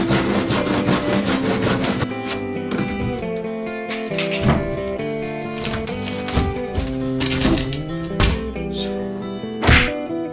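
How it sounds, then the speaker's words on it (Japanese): A hand saw rasps back and forth through hollow bamboo in quick, rhythmic strokes, loud and close, with occasional knocks. "なんとかノコギリで切ることができました"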